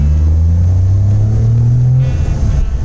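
A Suzuki Alto VXR 660cc automatic drives and accelerates, the small engine's loud, close drone rising steadily in pitch, then shifting as it changes gear, with no talking.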